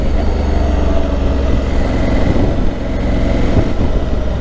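A 2021 Honda Africa Twin Adventure Sport motorcycle riding and leaning through bends on a road, engine droning loudly and continuously with rushing wind noise and slight dips in tone as it corners.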